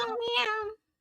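A cat's meow, one drawn-out whining cry lasting most of a second, close and fairly loud, ending abruptly.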